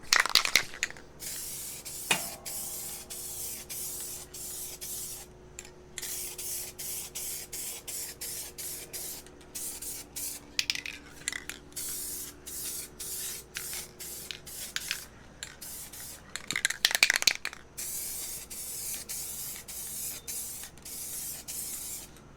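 Repeated bursts of a spray gun hissing as it applies a metallic paint coat to a car, several long passes separated by short pauses, fairly close and loud, with some rubbing and handling noises between.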